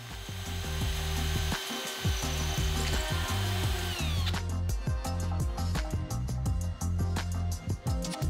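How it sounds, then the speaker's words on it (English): A drill bores holes through a wooden guide block for drawer pulls on a walnut table, grinding and whirring in several close bursts with clatter between them, and no talk. "this should help me drill holes that are perfectly straight"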